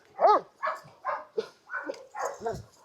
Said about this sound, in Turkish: Erkek Dogo Kanaryo köpeğim böyledir.